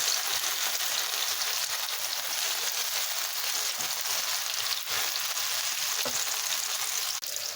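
Eggplant sizzles steadily in a hot pan, a dense, even crackle of frying that runs unbroken throughout, close and moderately loud with no voices.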